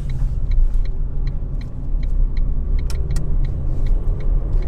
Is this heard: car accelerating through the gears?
yes